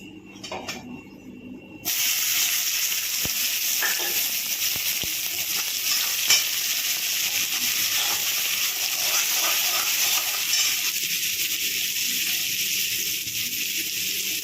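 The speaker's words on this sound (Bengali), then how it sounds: "তেল গরম হয়ে গেছে। এখন দেবো পেঁয়াজ কুচি, কাঁচা লঙ্কা কুচি, আদা কুচি, রসুন কুচি, টমেটো কুচি।" Chopped onion, green chili, ginger, garlic and tomato hit hot oil with a sudden loud, steady hiss that keeps going, with small crackles and pops throughout and no talking over it.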